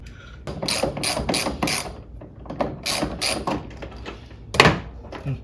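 A 10mm socket wrench ratchets loudly and close up while loosening the bolts on a Honda Element's rear hatch cables, sounding as several bursts of rapid clicking with short pauses between them and a sharper metallic knock near the end.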